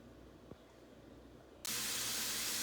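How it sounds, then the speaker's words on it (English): A loud, steady sizzling hiss suddenly bursts in after a quiet stretch as steak meat hits hot oil in a pot to sear, continuing strongly to the end. "we have our half of our meat searing now"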